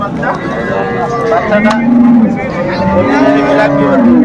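An improved-breed dairy cow with her calf moos repeatedly at a busy rural cattle market in Dinajpur, the long low calls rising over continuous crowd chatter and voices.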